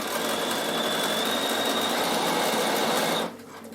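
Sewing machine running steadily as it stitches a fabric travel pouch, a close, loud, even whirr that stops abruptly near the end, leaving a quieter room.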